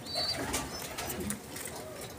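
Pigeons in pairs at a wholesale bird market coo softly and briefly amid faint ambient noise and a few scattered chirps, with no clear speech.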